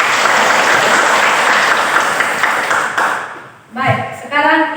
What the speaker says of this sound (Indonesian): berikan tepuk tangan sekali lagi.